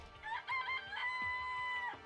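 Chicken in the video game Danganronpa: Trigger Happy Havoc, giving a run of close, loud clucks and a drawn-out squawking call over steady game music.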